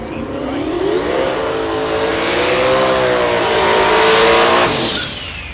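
A Ford Durango drag race car at the Texas Motorplex in Ennis, Texas, revs hard in one loud, continuous roar whose pitch swells and dips over about five seconds, with no talking.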